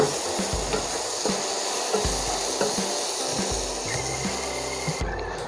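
Tomatoes sauté in a pan over a medium flame with a steady, close sizzle and hiss, while soft wooden scrapes and stirring taps come through at intervals.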